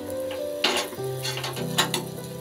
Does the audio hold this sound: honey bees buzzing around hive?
no